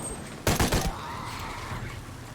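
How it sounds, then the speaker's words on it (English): AK rifle gunfire in the video game Shadow of the Tomb Raider, a short rapid burst of several sharp shots in quick succession, loud against quiet ambience, followed by a fading ringing tail. "let's try the AK out"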